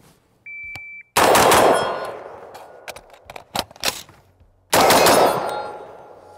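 An SOLGW M4-89 rifle fires two loud, sharp shots about three and a half seconds apart. Each blast rings out with a long echoing decay, and a short beep and a few smaller clicks and clatters fall between them.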